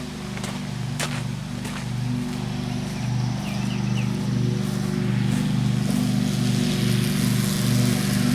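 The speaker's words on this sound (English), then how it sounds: "been cutting grass with the Craftsman now" A Craftsman lawn mower runs steadily while cutting grass, its engine a continuous loud drone with a slight pulsing rhythm and no one talking.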